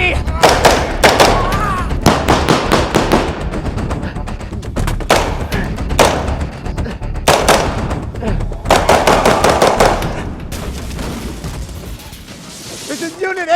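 Gunfire at a staged live product launch event for DJI Inspire 2 and Phantom 4 Pro drones, a series of loud sharp bangs and thuds in bursts across the stretch, mixed with shouting voices.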